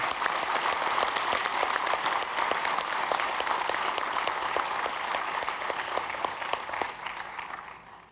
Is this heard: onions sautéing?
no